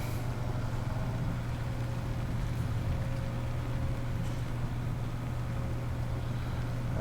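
A tractor engine in Farming Simulator 17 drones steadily and evenly at close range, a continuous low hum with no breaks.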